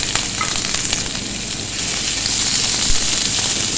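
Two medium roughly chopped onions frying in a small amount of oil in a pan, a steady, close sizzle with light crackling that holds at an even level throughout, no talking.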